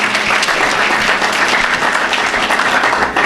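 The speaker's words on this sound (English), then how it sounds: "That's worth a hand clap." A crowd at a university graduation ceremony gives loud, dense applause, a continuous wash of many hands clapping at once that holds steady at full volume throughout.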